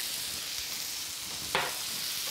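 Cumin seeds fry in a pan, giving a steady close hiss of sizzling with one sharp crackle midway through.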